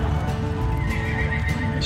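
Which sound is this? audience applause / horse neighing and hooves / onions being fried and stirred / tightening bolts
horse neighing and hooves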